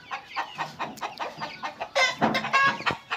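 Chickens in a hen setup cluck repeatedly in short rhythmic bursts, close by, with a louder flurry of calls near the end and no one talking.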